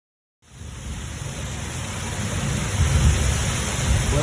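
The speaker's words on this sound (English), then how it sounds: "We really need this rain, so I'm looking forward to it." Rain falls as a steady, broadband hiss that starts abruptly and builds slightly louder, continuous and close, with a low rumble underneath and no voices.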